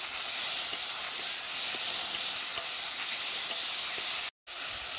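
Tomato pieces sautéing in a little oil with three dried red chillies and a green chilli give a steady, loud, even sizzle that runs unbroken, apart from a brief dropout near the end.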